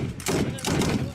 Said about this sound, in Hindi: घंटों तक दोनों एक दूसरे पर बम और गोलियां बरसाते रहे, जिससे पूरा इलाका थर्रा उठा।